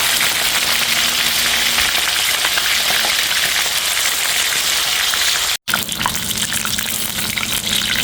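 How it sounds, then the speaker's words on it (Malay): Wet, undried talang fish fry in a pan, giving a loud, continuous crackling sizzle like heavy rain, with a brief break near the end before the sizzle resumes. "Kita goreng ikan ni semua"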